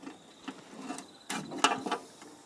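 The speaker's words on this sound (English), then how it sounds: "A bolt like this where you can just get your spinner on there and this is how much of a turn you can get." Ratchet spinner turning a bolt on a tractor, giving a quick run of close, crisp clicking pawl ratchets in short bursts, faint and alone with no talking.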